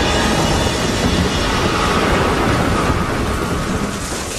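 Loud, dense thunderstorm with heavy rain pouring steadily and deep rolling thunder rumbling throughout, a constant wall of sound.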